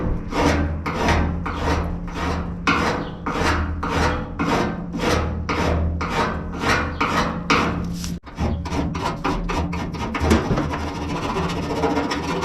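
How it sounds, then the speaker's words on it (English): A coarse hand file rasps across lead bodywork on a car in quick, regular back-and-forth strokes, close and loud, with a brief pause before the strokes resume faster. "So I've been working with this file for 5 or 10 minutes"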